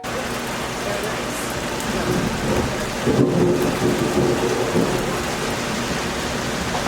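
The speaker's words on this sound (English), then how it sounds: "With thunder and lightning in the background" Heavy rain pours down steadily on a rainy day at a homestead while a deep thunder rumble swells and rolls through the middle, loud and continuous, with no voices.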